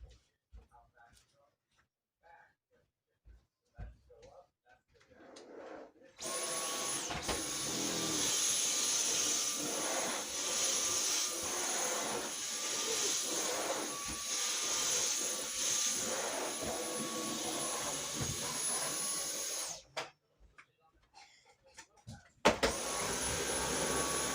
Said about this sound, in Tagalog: I'm doing the vacuuming.